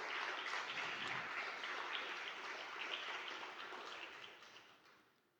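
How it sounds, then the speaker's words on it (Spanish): A church congregation claps for the Lord, a dense, fairly faint wash of applause that holds steady and then tapers off toward the end, with no speech over it. "Dale un gran aplauso al Señor"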